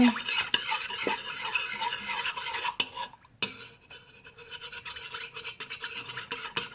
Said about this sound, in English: I'm going to be mixing it with that.